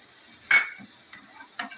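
Chopped onion frying in a pan, a soft hiss broken by a couple of quick spoon stirs, brief and close, no voices.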